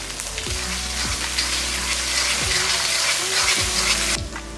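Small shallots sautéing in a pan, giving a continuous close, bright sizzling hiss with a few sharp clicks and knocks from the spatula scattered through it, ending abruptly.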